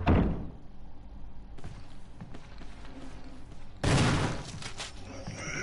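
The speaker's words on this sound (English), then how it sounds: "next zombie, we're gonna shoot a shotgun, blast him off in the head" A shotgun blast fired at a zombie in the Resident Evil remake, a sharp loud crack at the start, then a second heavy blast a few seconds later, with gritty game ambience between.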